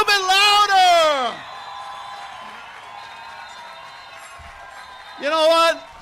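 A graduation crowd at Brentwood High School's Class of 2021 ceremony cheering and clapping in a sustained, spread-out roar, framed by a loud voice whooping near at the start and again at the end.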